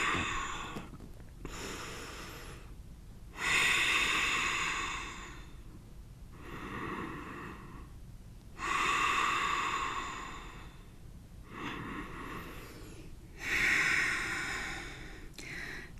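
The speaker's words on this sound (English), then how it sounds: "So as you inhale, really breathing into all 3 sides of the chest" Deep yoga breathing in a studio class, several slow rounds of audible inhales and exhales through the chest, each breath long and breathy, close and alone with no talk.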